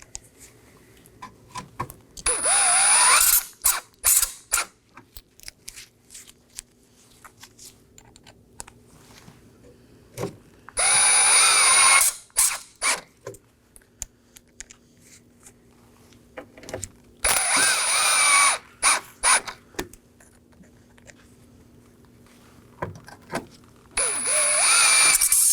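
A power driver runs six T15 Torx screws into the grille of a 2018–2024 Chevrolet Equinox, in several short bursts of whirring and ratcheting separated by quiet pauses and small clicks of handling.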